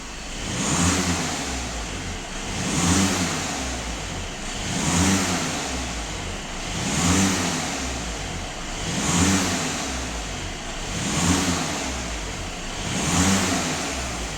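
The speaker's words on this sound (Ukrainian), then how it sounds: "Сама вона підіймає оберти, бачимо тиск, хто більший, то менший, сама газує" Skoda Octavia RS 230 PS engine revving on its own during a diesel particulate filter cleaning service, heard as a mid-pitched engine rising and falling in regular surges about every two seconds, close and steady, with no talking.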